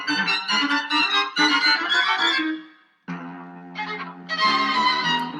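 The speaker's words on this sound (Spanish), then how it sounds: "lo que están escuchando ahí es el tercer cuarteto de cuerdas de Schoenberg" Schoenberg's String Quartet No. 3 plays back over a speaker in a talk hall, with dense, dissonant string lines, a brief drop to silence midway, then the strings resume at moderate volume.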